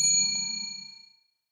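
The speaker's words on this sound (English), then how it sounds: "Bell." A single bright bell ding with a clear, ringing tone, loud at the strike and decaying smoothly over about a second into silence.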